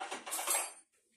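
A metal spoon picked up from among dishes makes a brief, bright clinking rattle lasting under a second, close by, then stops.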